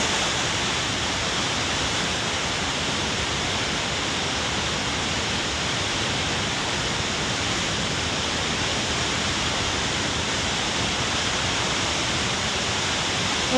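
Rushing river water in a steady, loud broadband roar fills the scene, constant and close throughout with no break and no voices.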